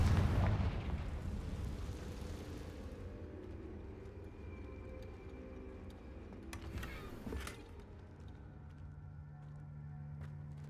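Confringo fire spell blasting in Hogwarts Legacy, a loud burst at the very start that decays into a long fading rumble, with a smaller crackling flare later amid quiet game ambience.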